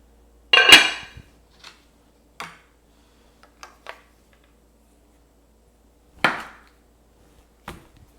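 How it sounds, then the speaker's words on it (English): A knife slices through pork belly on a cutting board in a handful of separate, sharp knocks, one heavier cut followed by lighter taps, close by in a quiet kitchen with no talking. "I'm gonna pull out the pork belly and slice it up"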